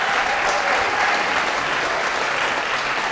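Steady applause from an audience at a DC mayoral candidate forum, a dense continuous clatter of clapping lasting the full few seconds without any speech.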